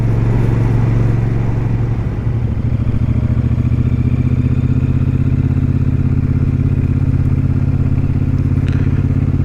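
A Royal Enfield Super Meteor 650 motorcycle being ridden on a motorway, its steady engine drone and rushing wind loud and continuous throughout, with a faint clatter partway through.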